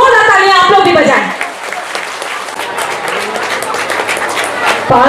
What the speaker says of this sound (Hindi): जोरदार तालियां आप लोग भी बजाएं